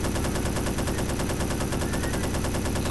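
Sustained rapid gunfire from the Hidden & Dangerous 2 video game, a dense continuous burst of automatic shots rattling loudly for the whole stretch with no pauses.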